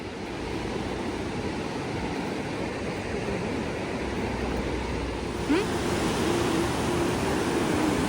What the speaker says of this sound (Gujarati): પાણીનો અવાજ આવી રહ્યો છે ત્યાં